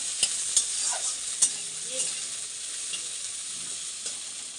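Bitter gourd and pumpkin fry in a pan with a continuous close hiss and sizzle, broken by a few sharp clicks and scrapes as the pieces are stirred.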